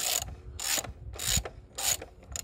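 Screw holding the battery strap on a Ford Focus being unscrewed, with four rhythmic rasping ratchet strokes close by and no talk.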